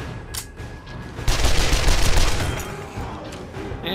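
A dense burst of rapid SMG gunfire rattles loudly for over a second during a chaotic console horde night in 7 Days to Die, then eases off into lower background game noise.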